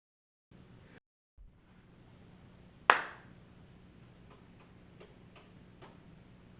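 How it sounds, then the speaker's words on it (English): A single sharp hand clap in a quiet room, loud and close, with a short decay, followed by faint low ticking sounds against a soft background hiss. "Is that clap good?"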